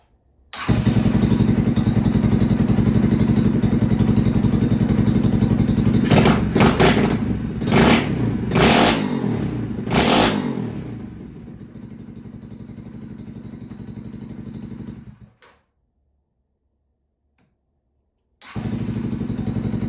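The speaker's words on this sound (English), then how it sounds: "just want to show you that the motor fires up and runs like it should now" A shifter kart engine fires up and runs loud and close, with several sharp revs and clatter, then settles to a lower idle before cutting out into silence. Near the end it starts up again.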